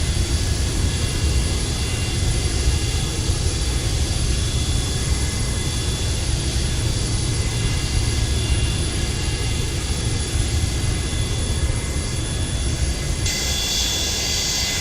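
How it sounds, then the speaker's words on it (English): A simulated Boeing 727 jet engine, recorded in Microsoft Flight Simulator, runs up with a loud, sustained roar layered with thin, high steady whines, holding constant over many seconds with no talk. "there goes engine number 1 up and running"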